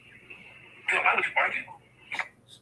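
A mobile phone sounds off with a steady electronic tone, then its synthetic voice talks back in a short burst, followed by another brief electronic blip.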